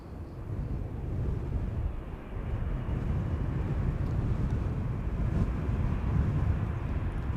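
Air Canada airliner taking off from Amsterdam Schiphol bound for Toronto, a sustained broad jet roar that swells slightly and stays steady, heard outdoors with some wind on the microphone.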